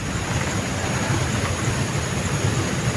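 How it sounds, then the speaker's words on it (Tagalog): Steady rain pours down in a dense, even hiss with a low rumble underneath, close and continuous throughout. "Parang may ulan tayo mga tol."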